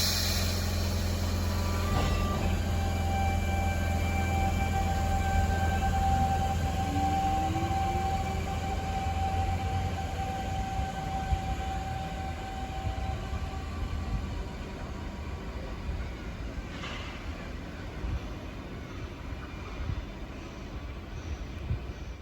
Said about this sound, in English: The C-sets used technology that would be used on the Tangara trains, including chopper thyristor controls.